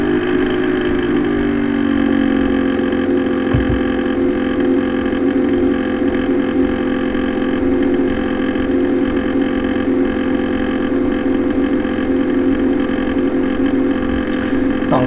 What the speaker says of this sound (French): Je m'excuse pour le bruit du ventilateur.